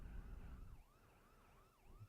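A police car siren from a GTA 5 add-on vehicle mod, wailing in smooth rising and falling sweeps, repeating steadily at a moderate, fairly distant level after a brief low rumble.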